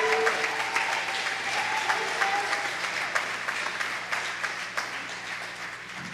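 An audience claps hands in steady, sustained applause that fills the room at a fairly loud, even level throughout.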